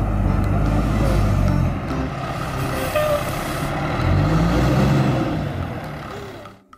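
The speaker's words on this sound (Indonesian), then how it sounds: "Mobil truk pemadam kebakaran." A toy fire truck's engine sound rumbles loud and close in a steady truck-like drone with brief air-brake hiss, easing slightly midway and cutting off near the end.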